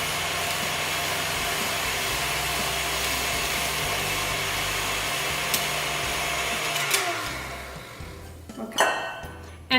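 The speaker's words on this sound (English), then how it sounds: "So let's go ahead and get it spiralized." A spiralizer cuts an apple into spirals with a steady, loud whirring drone close by that cuts off near the end, followed by a few clinks and knocks as it is handled.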